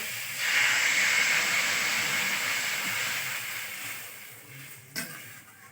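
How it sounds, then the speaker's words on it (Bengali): Water poured into a hot cooking pan of curry makes a loud steam hiss that swells, holds, then slowly fades, with a brief clatter near the end. "এবার আমি জল দিয়ে দেবো"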